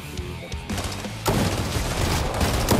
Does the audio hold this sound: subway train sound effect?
no